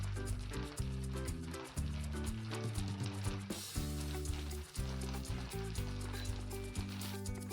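A thick batter for a fasting-day frankie fries in oil on a pan with a low, steady sizzle, partly buried under louder background music.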